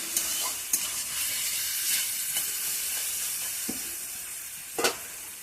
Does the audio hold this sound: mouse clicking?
no